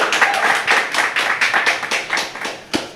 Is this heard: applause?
yes